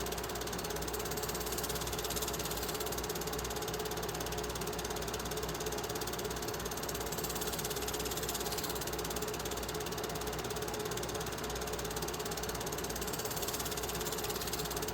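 Southern Railway 4501 steam locomotive hauling a 1972 excursion train at track speed, heard from aboard: a dense, continuous rattling clatter of running gear and wheels, loud and unbroken throughout.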